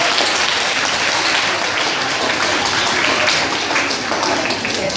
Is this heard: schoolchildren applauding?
yes